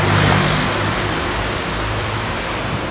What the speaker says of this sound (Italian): Ecco una macchina appena inchiodata.